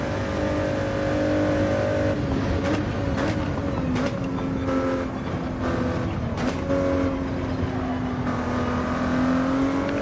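Race cars in a racing video game, with loud engines howling continuously and revs rising and falling as the pack runs close together.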